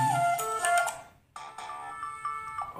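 A ringtone previews on a Micromax 1b phone, a bright melodic tone with steady harmonic notes that plays, pauses briefly, then resumes at similar loudness.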